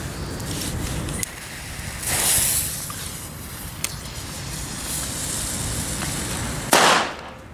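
C-Böller firecrackers set off around New Year's Eve: several sharp bangs with crackling bursts, loud and fairly close, against steady outdoor background noise.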